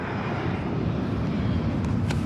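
Steady, dense roar of an airplane's engines heard from inside the cabin, constant and unbroken, with no voices.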